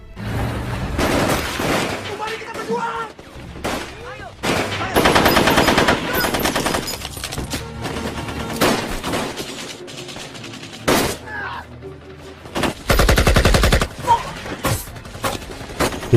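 Gunfire in a battle against Dutch troops: repeated loud bursts of automatic fire and scattered shots with occasional booms, coming in waves across the scene, with voices heard between the volleys.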